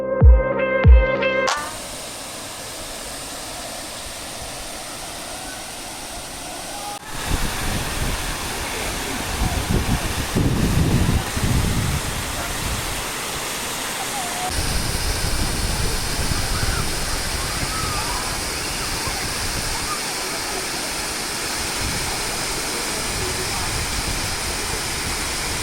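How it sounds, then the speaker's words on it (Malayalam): Arippara waterfall viewed from a suspension bridge roars as a steady, full rush of falling water, with a brief clatter at the start and the flow continuing loud and unbroken throughout. "ഈ കാണുന്നതാണ് അരിപ്പാറ വെള്ളച്ചാട്ടം"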